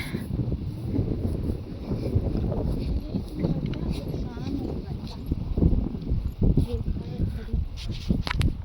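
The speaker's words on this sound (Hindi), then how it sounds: "यहाँ बहुत तेज हवा चल रही है" Strong outdoor wind buffets the microphone near a river on a trip to Lechlade, a loud, uneven rumble, with people talking over it.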